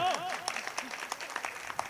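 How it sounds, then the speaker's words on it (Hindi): Audience claps at a Hindi kavi sammelan poetry recital, a scattered patter of hand claps that starts under a voice and continues as brisk, uneven clapping. "ताली बजाओ"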